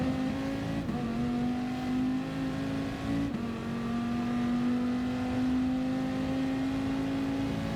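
A Dodge Viper Gr.3 race car engine roars at Spa-Francorchamps in Gran Turismo, a loud, continuous drone that climbs steadily in pitch with a brief dip at each gear change. No voices are heard.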